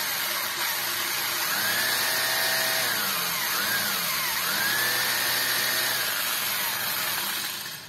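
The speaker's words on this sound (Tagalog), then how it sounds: "Mukhang matagal-tagal, didirill natin yan." A power drill whines with rising and falling pitch as it bites into a seized, rounded rotor bolt on a Honda Civic EG hatch, running continuously and close up with no talking.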